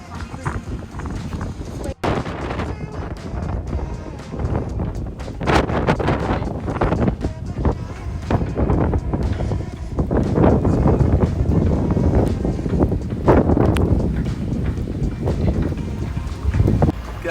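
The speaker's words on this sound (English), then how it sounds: "Guys, it is blowing so hard." Hurricane wind around 40 knots blowing over a sailboat, a loud, continuous roar with heavy microphone buffeting and gusts swelling and easing, while voices talk underneath.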